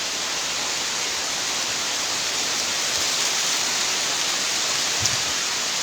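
Heavy rain pours down in a tamarin enclosure, a loud, steady wash of hiss that fills the whole stretch without pause or talk.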